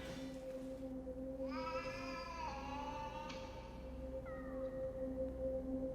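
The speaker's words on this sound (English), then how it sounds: "she hears a cat growling" A cat growls and yowls in drawn-out, wavering cries that rise and fall, over a constant low electrical hum.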